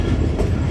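The Awam Express passenger train runs through Dhonkal railway station between Rawalpindi and Lahore, giving a close, loud, rumbling clatter of wheels and carriages in a very brief burst.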